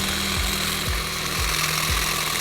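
STIHL HSA 26 battery shears trimming a dense, thick bush, a steady close motor whir with a clipping snip repeating about every half second, steady and fairly loud, no talking.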